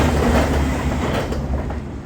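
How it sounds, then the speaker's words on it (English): A train passes close by with a loud, continuous rumble and rhythmic wheel clatter that thins slightly toward the end. "Another train."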